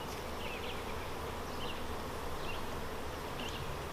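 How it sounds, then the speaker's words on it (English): Dense, steady buzzing of a packed honeybee hive box opened for queen-cell building, a close, continuous drone of many young bees with no voices. "this box that's just packed full of bees, lots of young bees in there"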